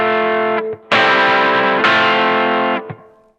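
Distorted electric guitar plays a main riff, loud and sustained chords with a brief gap and a quick restart, ringing out to a close with no talking.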